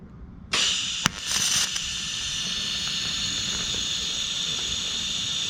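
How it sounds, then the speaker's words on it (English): A TIG welder tacks a tube on a Cobra Daytona build: a sharp click and crackle at the arc's start, then a steady, close, even hiss holding to the end. "So the TIG is getting ready to lay down a bead here, or at least tack it."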